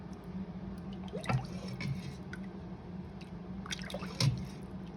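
Broth poured over couscous gives soft dripping and liquid splashes, quiet and close in a home kitchen, with a few louder drops against a low steady hum.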